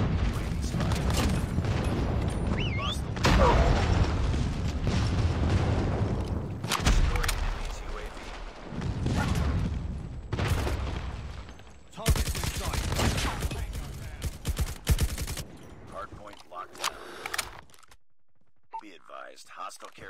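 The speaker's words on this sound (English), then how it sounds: "Friendly airstrike incoming." Airstrike explosions and gunfire in a ranked online first-person shooter match with the KN44 rifle: heavy, dense bursts of booms and rattling shots at close range, with players talking over the action and a brief quieter stretch near the end.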